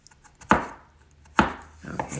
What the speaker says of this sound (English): now I'm going to chop it. Try to chop it as fine as I can. Like a mince.